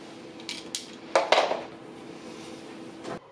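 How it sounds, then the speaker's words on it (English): A knife cutting a piece of liner for the top of a vintage bar cart gives a few close, short scraping strokes and clicks, one longer rasp in the middle, over a faint steady room hum. "I grabbed my knife and I cut the perfect piece"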